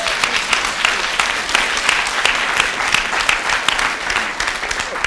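An audience at a women-in-public-life event applauds warmly and continuously, dense clapping filling the room at a steady loud level from start to finish.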